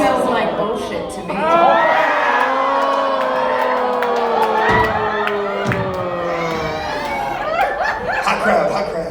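A lively live crowd at a comedy dating-game show cheers, whoops and laughs loudly and continuously, with swelling bursts of excitement, near and full-bodied.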